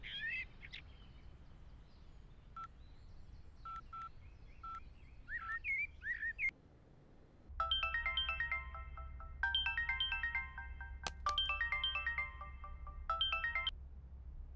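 A mobile phone plays a chirping ringtone in repeated bursts while a conference call is being placed, preceded by birdlike electronic tones and a low hum, with no voices.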